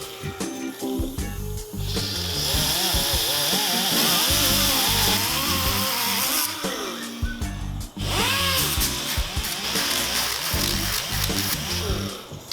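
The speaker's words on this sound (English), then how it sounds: "only clear the powder coat off just this surface" A power grinder stripping powder coat off a motorcycle frame, a loud sustained whine that wavers in pitch as it bites the metal, cutting out briefly near the middle before starting again, with some talk partly underneath.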